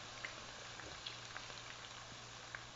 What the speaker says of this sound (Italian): la prima padella di zucchine che abbiamo messo a friggere